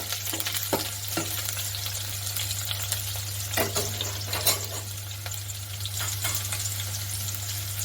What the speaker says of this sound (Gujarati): થોડા બ્રાઉન કલરના થાય ત્યાં સુધી આપણે તેને સાતળશું